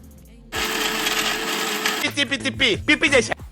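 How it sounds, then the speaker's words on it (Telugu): Mixer grinder whirring loudly as it grinds cloves and cinnamon, a dense motor roar for about a second and a half, then pulsed short bursts as the grinder starts and stops. Someone talks over the pulses. "లవంగాలు దాల్చిన చెక్క ఇవన్నీ తీసుకొని గ్రైండ్ చేసుకోండి"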